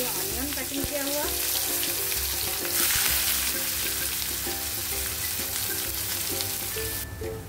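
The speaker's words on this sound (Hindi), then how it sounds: "अभी हम ऐड कर देते हैं ऑनियन कटिंग किया हुआ" Chopped onion frying in hot oil with cumin seeds for a green bean seed dry vegetable dish, giving a steady close sizzle with occasional stirring clinks, no talk.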